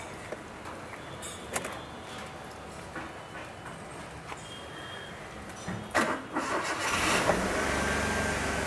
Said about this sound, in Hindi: गाड़ी स्टार्ट हो गई